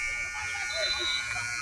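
End-of-game buzzer at an indoor ladies' basketball game, a steady electronic tone held for under two seconds amid crowd noise and talking.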